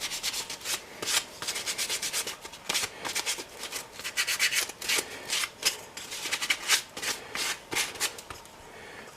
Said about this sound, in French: je l'ai limé un peu, les poncer,